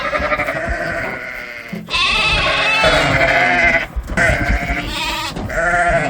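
Ewes, lambs and goats loaded together in a livestock trailer bleat loudly and almost without pause, many overlapping calls close by, with only brief gaps.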